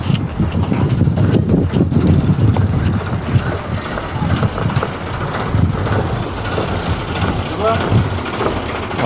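Boat ride on open water near Agatti, a loud, continuous engine drone mixed with rushing wind and splashing, heavy buffeting throughout, with voices talking over it.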